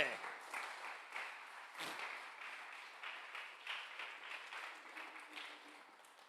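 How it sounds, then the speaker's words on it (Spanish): A congregation at a Sunday service claps together, the applause rising and falling in loose waves while voices carry over the clapping throughout. "Dele un aplauso al Señor"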